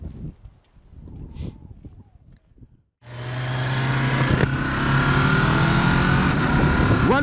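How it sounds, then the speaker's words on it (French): A Ducati Monster roadster motorcycle is heard after a few quiet seconds as a sudden, loud, steady engine roar close by, with wind noise, holding through to the end. "on vient de faire 2-3 passages avec la Ducat"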